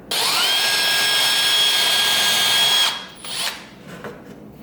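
A power drill whirs steadily at high speed for about three seconds, boring a hole in wood, then stops, followed by brief softer scraping and clattering.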